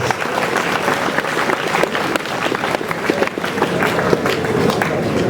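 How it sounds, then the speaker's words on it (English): A crowd applauds the Sawagongo school team at a homecoming celebration after a FEASSSA 2024 games match, dense sustained clapping with scattered sharper claps, loud and steady throughout. "Clap for the boys."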